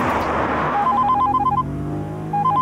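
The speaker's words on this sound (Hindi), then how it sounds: "वाइफ का फोन" A mobile phone rings with a repeating electronic trill inside a car, heard over the steady rumble of the car engine.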